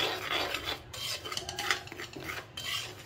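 Semolina dry-roasting in a pan and being stirred continuously, a steady gritty scraping and rasping of grains against metal, close and moderately loud, with no talking.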